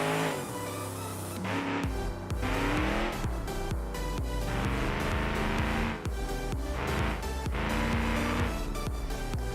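A car in BeamNG.Drive driven at full throttle, its engine roaring loud and steady while revs rise and drop in repeated surges, with tires squealing at times; no talking.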